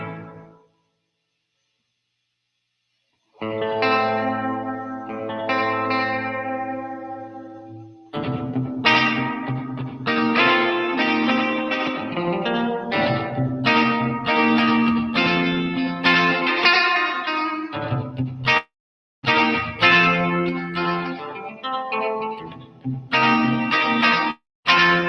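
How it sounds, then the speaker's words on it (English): An electric guitar through a reverb pedal set to long decay plays sustained chords and melodic lines soaked in lush reverb. The notes ring out with a long, shimmering tail after a quiet opening. "I'm going to put some extra decay in this so we can really hear that reverb working."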